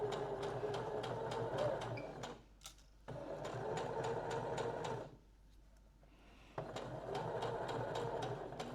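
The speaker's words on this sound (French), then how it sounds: "je plante mon aiguille, je tire mes fils, je fais un petit point d'arrêt et on y va en suivant le bord du tissu" A sewing machine stitches along the edge of a fabric piece for dress darts, a steady rapid whir running in three bursts separated by short pauses, close and moderately loud.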